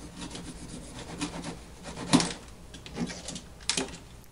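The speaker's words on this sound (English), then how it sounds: "Just roll the knife lightly. And it should cut clean through." A hobby knife is rolled lightly to cut through material while assembling a Wicked Yak 55 model plane, giving soft scraping rasps that build to a few sharper crunches.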